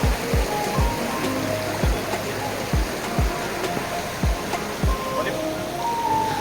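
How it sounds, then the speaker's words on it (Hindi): Water rushes steadily over rocks nearby, a continuous broadband flow with faint intermittent knocks in the background. "और ये देखो पानी बहता हुआ।"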